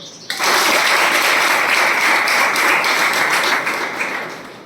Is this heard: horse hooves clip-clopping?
no